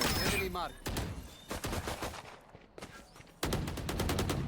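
Rapid automatic gunfire from the video game Valorant in repeated bursts, loud and close, with brief quieter gaps and a renewed burst near the end, alongside faint in-game sounds and a player's voice.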